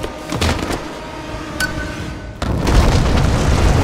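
A bomb goes off in the video game Rise of the Tomb Raider with a sudden loud boom that leads into a sustained, rumbling roar, after a quieter stretch of low game ambience.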